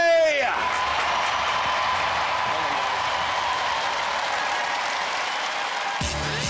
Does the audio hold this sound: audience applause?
yes